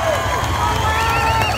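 A rodeo crowd applauds and cheers for the rancher and bull rider, a loud, continuous roar of clapping and voices with whistles rising over it.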